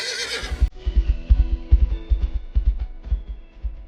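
A white horse gives one loud, close whinny at the start, then hooves clip-clop in a steady rhythm as it moves off.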